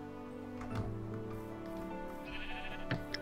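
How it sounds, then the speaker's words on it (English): Several sheep in Minecraft bleat in short, wavering calls, one after another at close range, over a steady background tone from the game. "God, there's tons of sheep."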